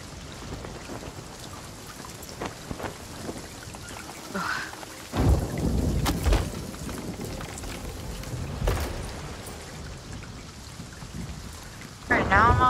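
Thunderstorm with heavy rain in the video game Sea of Thieves: a steady rain hiss with several deep rumbling thunder rolls and sharp cracks, plus faint voices now and then.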